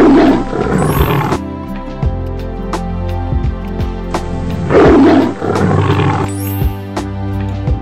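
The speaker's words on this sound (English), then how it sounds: "lion" Lion roaring twice, each a deep, rough, drawn-out roar rising and falling, loud and close with a pause between them and no speech.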